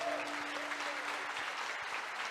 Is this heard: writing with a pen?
no